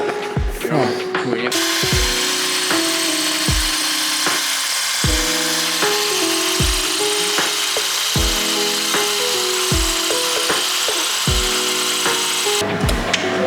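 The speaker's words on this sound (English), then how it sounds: "just drilling up the walls so we can install the anchors" A steady whirring power drill runs throughout, with sharp repeated thuds roughly every second and a half as it bores holes into walls for anchors.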